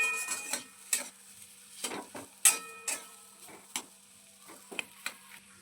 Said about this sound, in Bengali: নুনটা আলুর সঙ্গে ভালোভাবে মিশিয়ে নেওয়া হয়ে গেছে